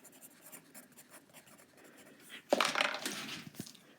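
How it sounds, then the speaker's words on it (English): A pen scratches across a surface in a woodworking shop, faint scribbling strokes at first, then a louder burst of scraping and a sharp tap near the end. "So that's writing it down."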